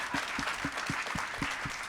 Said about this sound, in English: Please give another round of applause to Derek, Danielle, Simeon, and C-Suite Dave